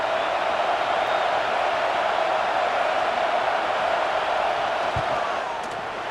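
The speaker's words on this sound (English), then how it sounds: "And this big crowd doing everything possible to inspire this defense down here near the goal line." Stadium crowd noise in the College Football 26 video game as a field goal is set up near the goal line, a dense steady roar of many voices that holds loud throughout and dips slightly at the end.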